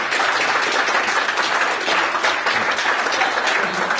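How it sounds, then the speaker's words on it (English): Wedding guests break into steady, loud applause that fills the room without a break for several seconds, dense clapping from a sizeable crowd. "Round of applause."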